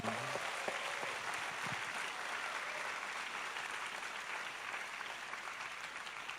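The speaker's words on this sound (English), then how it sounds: "A round of applause for Penang." Audience applause fills the space at the 2015 Georgetown Festival in Penang, a dense, steady wash of many hands clapping that holds at an even level throughout.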